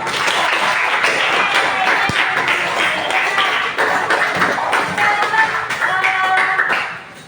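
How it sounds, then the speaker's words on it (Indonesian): Classroom students clap together, loud close applause with some rhythmic patting, lasting about seven seconds before stopping abruptly; a few voices mix in near the end. "Tepuk tangan buat kita semua."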